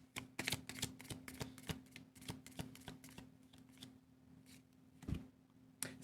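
A tarot deck being shuffled close by, a rapid run of crisp card riffles and flicks that slows into scattered taps, then a final snap, with no voices.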